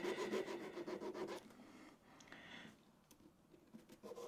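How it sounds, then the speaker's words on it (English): A cross grain nicker cutter is honed on a 1200 grit sharpening stone, producing a soft, rhythmic rasping rub that is fairly loud at first and then fades to lighter, quieter strokes, alone without speech. "we can just do a quick little hone on our lightest stone here, back to the 1200."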